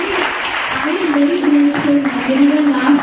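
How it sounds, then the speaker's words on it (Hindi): Audience applause for a guest at a college interview event, steady clapping mixed with voices talking over it. "आई वुड लाइक कि आप सभी लोग सर के लिए एक बार जोरदार तालियां बजाएं।"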